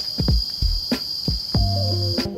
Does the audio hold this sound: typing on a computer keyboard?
no